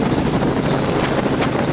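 A helicopter flying over a pond and willow thicket makes a loud, continuous broadband rotor roar with a fast choppy pulse, steady and close for the whole short stretch.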